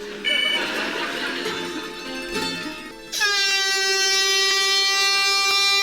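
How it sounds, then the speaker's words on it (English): A loud, sustained horn blast kicks in abruptly after a noisy stretch of voices and commotion, holding a steady blaring tone to the end. "Rhod Gilbert, being a proud Welshman, is going to blow an air horn at a picture of the Queen while screaming."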